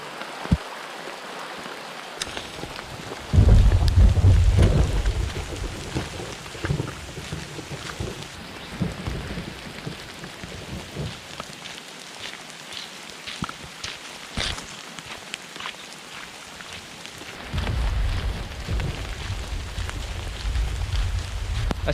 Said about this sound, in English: You're out for a hike, it begins to rain, and the storm is upon you.